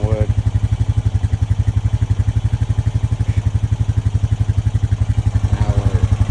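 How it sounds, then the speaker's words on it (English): A 2025 Honda Rancher 420 ATV engine runs warm at a steady idle, a loud close rhythmic thumping pulse that stays even throughout, with someone briefly talking over it. "It revs better, it runs better, more smoother"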